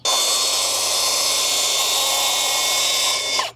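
A Milwaukee track saw cuts through large timber, a loud, steady high-pitched whine from the blade held at full speed for about three seconds before spinning down, close by.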